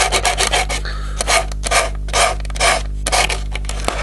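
A hand file rasps against a model locomotive body in short, rhythmic back-and-forth strokes, close and fairly loud, with a steady low hum underneath and no voices.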